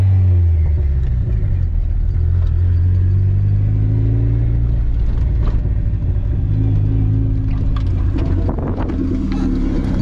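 BMW race car engine at full effort on a hot lap, a loud, steady, low rumbling drone with harmonic bands rising and falling through gear changes, wind buffeting the microphone throughout, no talking.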